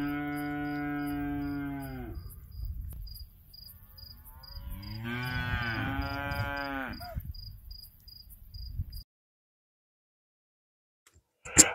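Cattle lowing in a kraal on a farm near Ellisras: one long deep moo, a pause, then a second drawn-out bellow, close and loud over a faint steady insect chirp, ending in silence.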